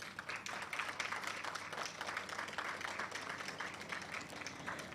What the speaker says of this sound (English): let us just give a nice round of applause to our nominees